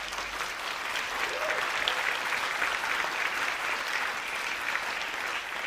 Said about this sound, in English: Stand up and take a round of applause first and foremost.